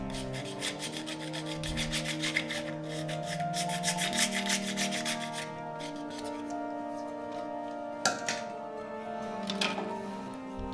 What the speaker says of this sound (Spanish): Hay que pasarle la lija todo alrededor del asiento porque también ahí se acumula sarro